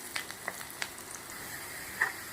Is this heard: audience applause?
no